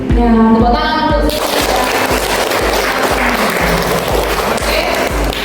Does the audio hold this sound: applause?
yes